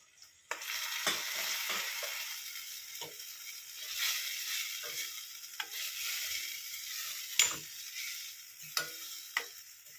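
Boiled chana dal frying with gongura curry in a pan, a steady close sizzle throughout with occasional sharp clicks and scrapes of stirring.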